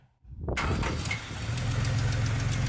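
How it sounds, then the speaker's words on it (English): A Valiant's Hemi 265 six cranks and catches after a brief quiet start, then settles into a steady, close idle with a ticking exhaust leak running through the rumble. "Got a bit of an exhaust leak there, as you can hear"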